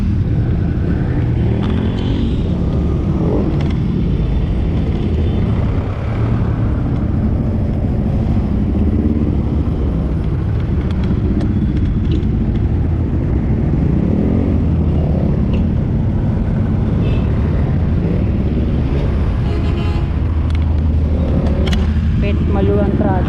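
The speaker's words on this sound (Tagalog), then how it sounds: "Ito, grabe traffic." Heavy road traffic on EDSA, a dense continuous rumble of car and motorcycle engines with occasional revving, loud and steady the whole time.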